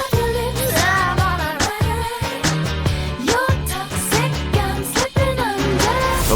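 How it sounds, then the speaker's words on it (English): A pop song plays from its original studio multitrack recording, loud and dense, with punchy rhythmic beats, layered synth and string lines, and a sung vocal line running throughout. "We're diving into the original studio multi-tracks and they are going to sound like this."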